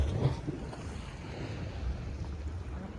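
Sea waves at Porbandar Chowpati beach in Gujarat, a continuous low rumbling wash of surf mixed with heavy wind buffeting the microphone, with no voices.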